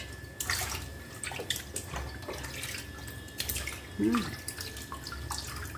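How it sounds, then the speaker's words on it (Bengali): Boal fish are washed under running water, with a steady close splashing stream, small drips and handling sounds, and a faint brief vocal sound partway through. "এই মাছগুলো ধুয়ে রেখে দেবো।"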